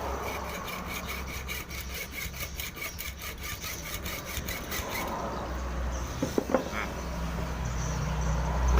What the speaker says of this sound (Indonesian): Kita gergaji ya.